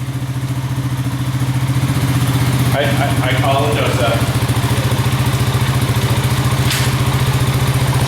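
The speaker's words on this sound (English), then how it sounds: "It's idling a little high." A rebuilt Honda Rancher 350 ATV on 24-inch tires idles slightly high close by, its loud, steady, pulsing engine chug continuing throughout while someone briefly speaks over it.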